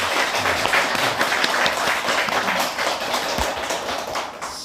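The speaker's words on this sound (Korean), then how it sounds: "감사의 큰 박수도 한번 보내주시기 바랍니다" Warm audience applause for a Buddhist temple's head monk at a Teacher's Day dharma talk, a thick, continuous patter of many clapping hands lasting a few seconds and fading slightly.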